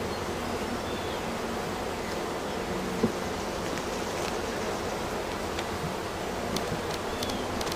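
Bees drone around a swarm hive outdoors in a faint, continuous buzz, blending with soft wind and rustling, with a few brief tones from bees passing close by.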